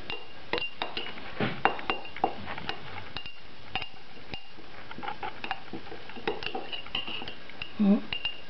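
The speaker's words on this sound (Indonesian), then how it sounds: "Masukkan semua, kemudian kita kocok seperti kalau kita membuat panekuk" A whisk knocks and clinks against a bowl while sourdough starter of whole wheat flour and cold water is mixed, with irregular taps and scrapes at close range and no voices.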